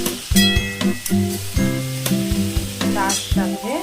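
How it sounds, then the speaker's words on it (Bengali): Bitter gourd and potato slices frying and being stirred in a pan, with a steady sizzle and repeated stirring scrapes under prominent tonal music. "দেখুন উচ্ছে আলু ভাজা"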